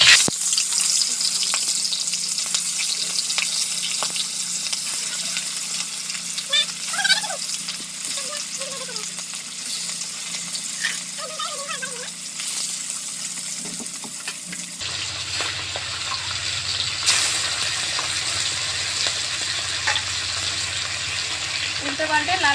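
Fish dropped into hot, smoking oil in a wok for a pond-fish curry, frying with a steady, close crackling sizzle throughout and a louder, brighter burst of spitting partway through.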